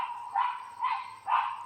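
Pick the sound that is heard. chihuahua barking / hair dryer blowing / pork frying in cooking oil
chihuahua barking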